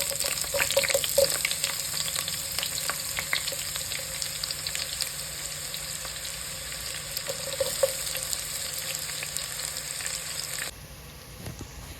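Chopped onions sautéing in hot oil, a continuous crackling sizzle close by with occasional stirs, steady for most of the stretch before suddenly quieting near the end, with no voices.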